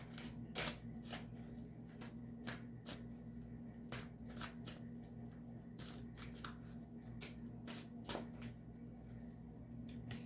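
Tarot cards are shuffled over and over at close range, a run of crisp riffling bursts and soft slaps that repeat at an uneven pace over a quiet background with no talking.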